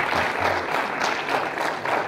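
An audience at a mushaira poetry gathering claps steadily, a dense, even wash of applause from a crowd with no voices above it.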